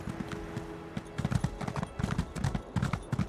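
Hooves clip-clop in a brisk, uneven rhythm as a horse is ridden in Elder Scrolls Online, the steps close and fairly quiet over a soft game ambience.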